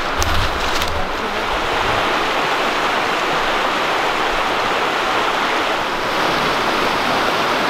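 Water rushes steadily through a small, narrow flume stream in the woods, a loud, close, continuous roar with no talk over it.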